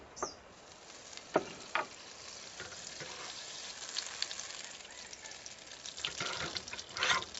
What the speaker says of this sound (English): once your pan is nice and hot, you're going to add 1 tablespoon of either butter or oil